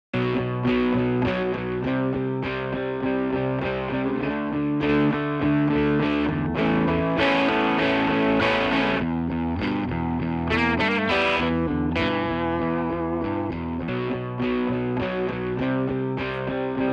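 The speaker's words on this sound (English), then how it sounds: "Put the compressor on, you can just feel it pushing and pulling around the sound" Dense, distorted music through a compressor plays continuously at an even, squeezed loudness, with thick layered tones and little dynamic variation.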